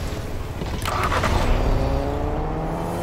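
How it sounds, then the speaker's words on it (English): Car driving in the video game Fortnite, a steady engine drone with a few brief higher bursts, continuous and fairly loud throughout, with no talk. "Since when did they add cars?"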